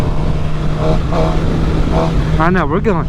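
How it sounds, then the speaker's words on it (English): A Suzuki GSX-R750 sport motorcycle cruises on a highway, a loud steady engine drone mixed with heavy wind noise, as the rider talks over it. "I love getting on the highway with this bike. This is where this bike thrives."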